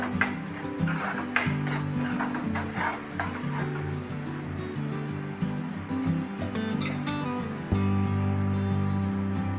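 Mung bean curry for a Gujarati meal of mag nu shaak and rice sizzles steadily in a pot as a spoon stirs it, with scrapes and light clinks of utensils against the metal throughout, no voices.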